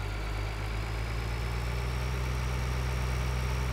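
Tractor engine in the Farming Simulator 2013 video game, idling steadily at a low, even drone with a constant hum and no speech over it.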